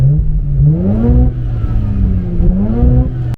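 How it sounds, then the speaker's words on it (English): A loud rotary engine in a Miata revs up and down in rising and falling sweeps, close by and throaty, with no talking. "rotary loves"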